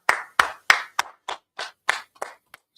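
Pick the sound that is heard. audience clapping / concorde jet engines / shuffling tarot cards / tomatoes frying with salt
audience clapping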